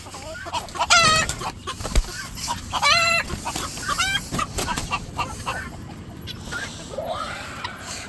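A rooster crows twice amid a flock of chickens clucking and squawking nearby, with guinea fowl present and more fowl calls rising toward the end.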